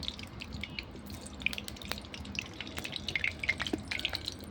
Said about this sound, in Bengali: কড়া বসিয়ে দিয়েছি, কড়া গরম হয়ে গেছে। দেবো সরষের তেল